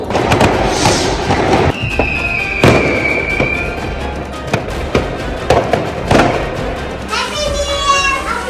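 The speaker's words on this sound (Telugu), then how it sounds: "క్రాకర్స్ సౌండ్ మాత్రం చాలా వస్తుంది." Fireworks and firecrackers burst outdoors during New Year's Eve celebrations at home, sharp cracks and thumps recurring every second or so, some near and loud, with a whistling rocket rising and crackling sparkles at the end, children's voices in the background.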